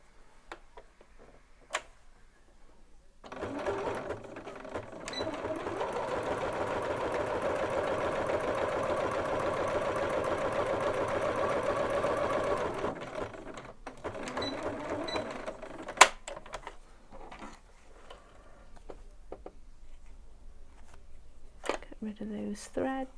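A sewing machine hums steadily for about ten seconds while stitching a buttonhole, a soft, even mechanical whir with faint ticking that starts and stops, followed by quiet handling sounds and a few sharp clicks.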